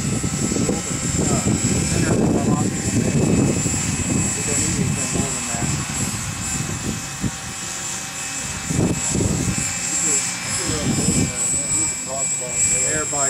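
An engine runs steadily throughout, a continuous droning hum with a persistent high whine, while people talk over it at close range.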